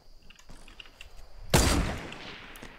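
A single loud sniper rifle shot in a video game cracks out at mid-clip, its sharp report trailing off into a rumbling tail over faint background game noise.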